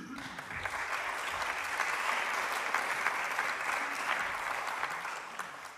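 Warm concert-hall applause for a guitarist at a TivoliVredenburg jazz concert, a dense, even wash of clapping from a large audience lasting throughout.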